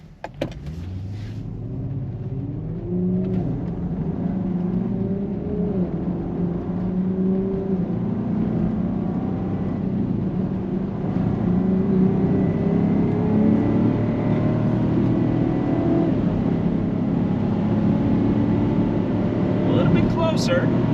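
A 2022 Land Rover Defender V8 and a Ford F-150 Raptor accelerate hard side by side from a rolling 100 km/h drag launch, a loud continuous engine roar and wind rush that builds steadily, with a voice talking over it.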